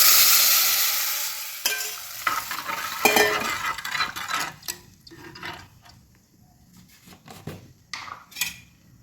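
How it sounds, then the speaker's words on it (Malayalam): Wet liquid hits hot oil with a loud hiss and crackle that slowly settles into a lighter sizzle, with occasional stirring scrapes and clinks of a pan. "ഇതിലോട്ട് നമുക്ക് നേരത്തെ തയ്യാറാക്കി വെച്ച പുളിവെള്ളം ചേർത്ത് കൊടുക്കാം"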